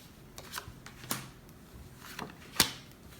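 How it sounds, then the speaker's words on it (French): Tarot cards being laid out one by one, giving a few soft, brief card slaps and slides at uneven intervals, with one sharper snap near the end, quiet against a faint room hush. "je vais mettre les 12 cartes"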